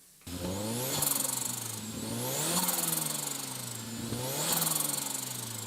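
A tuned car engine at Tokyo Auto Salon revs up and down repeatedly with a fluttering exhaust note, loud and close, rising in pitch in three sweeping waves.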